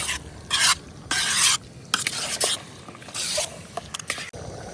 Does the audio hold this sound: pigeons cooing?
no